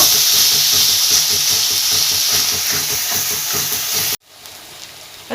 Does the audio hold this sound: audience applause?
no